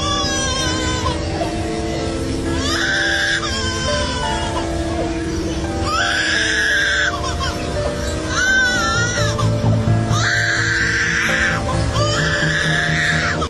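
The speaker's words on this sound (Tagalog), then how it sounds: "Superb lyrebird." Loud, piercing superb lyrebird calls ring out in repeated bursts, shifting and warbling, over a steady low droning background.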